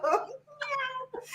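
A cat meows in a few drawn-out, wavering calls with short pauses between them, close and fairly loud against a steady low hum.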